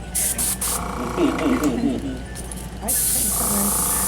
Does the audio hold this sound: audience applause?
no